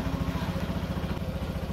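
Yamaha NMAX scooter engine running after a remote start, a steady low rhythmic putter close by, fairly quiet and even throughout with no talk over it.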